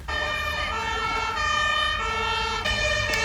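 Two fire engines drive past with wailing sirens just after an air raid alert ends, the loud, steady sweeping tones rising and falling over road noise.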